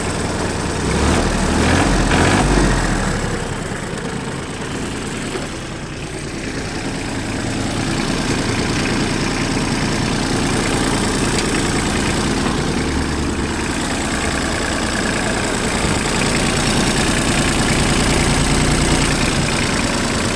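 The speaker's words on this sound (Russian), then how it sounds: "Двигатель работает ровно" Japanese Hinomoto N179 mini tractor engine idling steadily and loudly up close, a continuous even diesel rumble with no voices.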